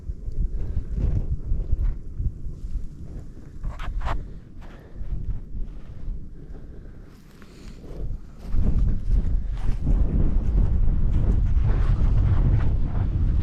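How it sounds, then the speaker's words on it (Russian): Strong, steady wind buffets the microphone beside the Osha river at a fishing camp, a constant roar that swells louder and fuller toward the end, with no talking. "Ветер так и не прекращается."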